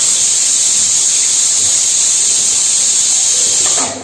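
A kitchen pressure cooker letting off steam: one loud, continuous high hiss held steadily for about four seconds, close by, then tapering off abruptly at the end, with no talking.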